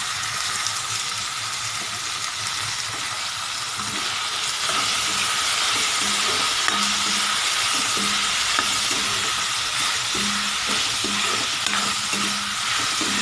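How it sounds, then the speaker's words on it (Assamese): Pork with tomatoes, salt, turmeric and spices frying in a pan, a loud, dense, continuous sizzle with steady stirring scrapes and knocks close up, with no talking. "বিলাহীখিনি গলি যোৱালৈকে আমি ভাজি থাকিব লাগিব।"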